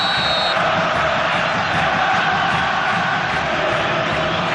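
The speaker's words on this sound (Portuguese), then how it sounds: "A torcida faz muito barulho." A football stadium crowd at a 1998 Libertadores group match between Vasco and Chivas keeps up a loud, continuous roar of massed voices, steady and near with no break.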